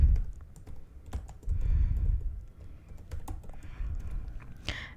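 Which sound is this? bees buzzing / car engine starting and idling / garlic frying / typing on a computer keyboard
typing on a computer keyboard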